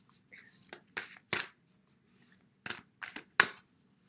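White Light Oracle cards are shuffled by hand in quiet, close bursts of riffling and flicking, separated by short pauses.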